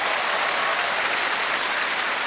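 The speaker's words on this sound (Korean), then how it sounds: "이미다 씨에게 또 한 번 큰 박수를 부탁드리겠습니다" Steady, full audience applause for veteran singer Lee Mi-ja at a televised concert, a dense unbroken wash of many hands clapping at even loudness throughout.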